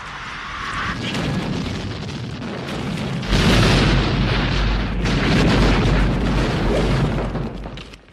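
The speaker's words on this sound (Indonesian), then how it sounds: "jatuh menghantam kendaraan angkut jelajah dan meledak bersama persenjataan yang ada di dalamnya" A dropship crashes into an armored vehicle and explodes in the film Aliens: a low rumble swells into a massive, sustained blast with roaring debris and fire, loud and long before slowly fading.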